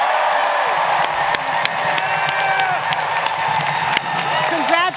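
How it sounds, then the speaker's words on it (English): Commencement audience at RISD applauding new graduates, a loud sustained wash of clapping with scattered cheers and whoops, close and continuous, with voices mixed in. "please join me in applauding RISD's newest alumni"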